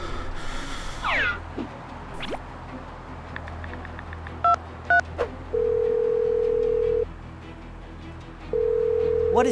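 A phone call is placed and goes unanswered: a few keypad tones sound, then long steady ringback tones repeat with pauses, fairly clear over a faint room background, with no talking.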